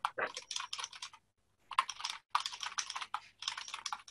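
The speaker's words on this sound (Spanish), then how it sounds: "alguien está escribiendo, por si hay un teclado" Typing on a computer keyboard during an online meeting presentation: quick bursts of close key clicks in several rhythmic runs, separated by a brief pause, with no talk over them.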